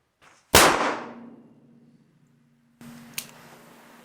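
Chiappa Rhino 60DS revolver fired once in double action, a sharp, loud report with a ringing decay that fades out, followed by faint handling noise and a small click.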